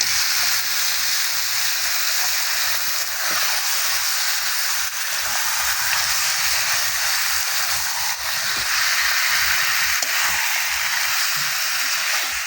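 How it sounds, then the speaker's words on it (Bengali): Duck meat frying in a pan with spices, a loud continuous hissing sizzle close up, steady throughout with faint stirring underneath and no voices. "মাংসটা এভাবে কিছু সময় নাড়াচাড়া করে কষিয়ে নিতে হবে"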